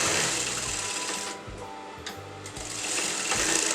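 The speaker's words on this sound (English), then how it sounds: "When you're joining the crotch, make sure you double stitch the fabric." A sewing machine double-stitching the crotch seam of Patiala salwar fabric, whirring steadily and loudly up close in continuous runs with a few brief slowdowns.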